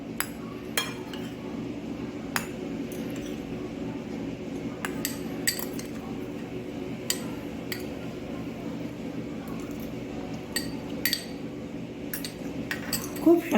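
Cutlery cutting into roasted cauliflower milk roast on a plate, giving scattered light clinks and taps of metal against the dish over a low steady hum, with quiet pauses between strokes.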